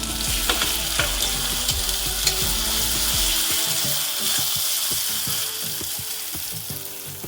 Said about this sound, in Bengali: এবার এতে আমরা ছেঁচো করা কাঁচা লঙ্কাগুলো দিয়ে দেবো।